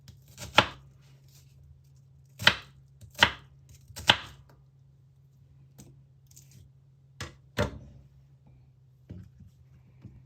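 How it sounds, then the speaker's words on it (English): A knife dices half a red onion on a cutting board: about eight sharp, close chops in irregular bursts with quiet pauses between them, over a faint steady background hum. "Cut the half of red onion into medium dice."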